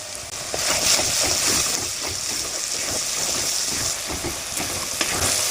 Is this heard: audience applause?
no